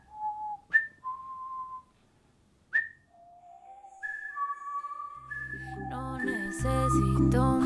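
A person whistles in imitation of a little bird, with short pitched chirps and slides separated by pauses, becoming a busier run of whistled notes with heavy reverb toward the end.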